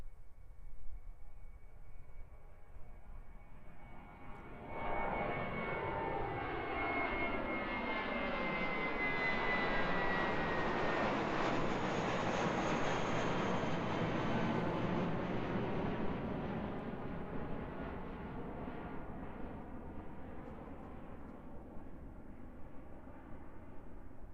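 A jet airliner roars down runway 02 at Christchurch Airport and lifts off, its engine noise swelling loud and continuous before slowly fading as it climbs away.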